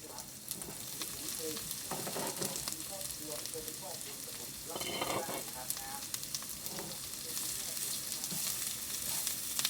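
Sweet cabbage is stir-fried in a pan with little oil, giving a constant crackling sizzle broken by repeated scraping strokes of the stirring utensil, with occasional quiet talk.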